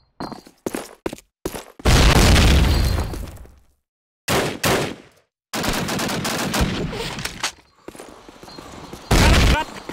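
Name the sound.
grenade explosion and gunfire in video game Call of Duty: United Offensive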